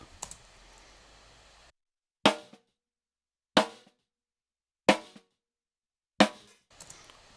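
Five sharp, punchy snare hits layered with a snare sample ring out one by one at an even, slow pace, each decaying quickly into silence.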